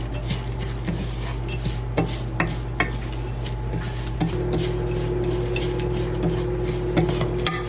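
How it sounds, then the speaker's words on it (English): Food being tossed and browned in butter in a pan for lunch lady peanut butter bars, with steady low sizzling and scattered scraping and clinking of a utensil against the pan throughout. "we're just going to toss these around until they get a little bit browned"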